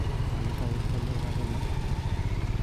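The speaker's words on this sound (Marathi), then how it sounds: "त्यांच्याच बाजूला आपली बाईक पण उभी करूया." A motorcycle idles with a steady low throb while being parked beside other riders' bikes at a stop on a monsoon Sunday breakfast ride from Mumbai, the engine close and continuous throughout.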